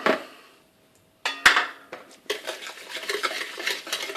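Egg yolks, sugar and butter being beaten together in a bowl for rum baba batter, with quick clinking strokes of a utensil against the bowl after a brief silence, steady and close.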